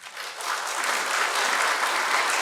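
A church congregation applauds during a sermon on Korean Bible history, with a burst of clapping that swells within the first half second and then holds steady and dense for the rest.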